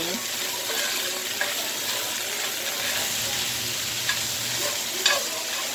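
Seasonings being stirred into a sizzling pot of jerk-style chicken pot pie filling with bacon, a steady fry hiss under soft scraping and a couple of brief clinks.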